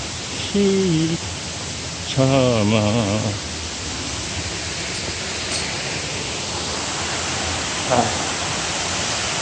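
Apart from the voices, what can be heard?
Cheonjeyeon waterfall water pouring down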